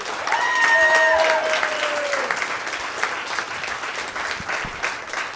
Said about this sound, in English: Ladies and gentlemen, make some noise for Zach Hunt, everybody.